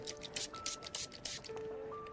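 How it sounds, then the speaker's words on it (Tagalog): Rapid hissing pumps of an alcohol spray misted over a helmet, several short close bursts in quick succession over a low steady background tone. "isprayan ko po ulit sandali ng alkohol bago niyo isuot"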